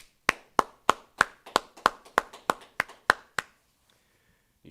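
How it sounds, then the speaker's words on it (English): Hands clapping in a regular, evenly spaced rhythm, about eleven sharp close claps in a row before falling silent, with a faint murmur afterward. "let's clap it up"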